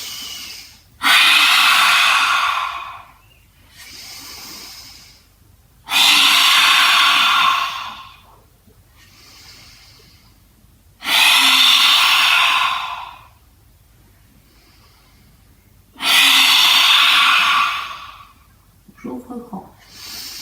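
Four long forceful breath exhales during a yoga breathing exercise, tongue out, each a loud breathy roar lasting about two seconds, alternating with softer inhales in a steady rhythm, no talking.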